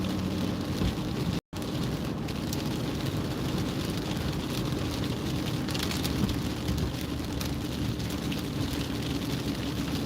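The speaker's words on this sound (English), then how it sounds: "Can you hear the rain hitting the window?" Steady, dense patter of rain striking glass close by, continuous and even throughout, with a brief dropout near the start.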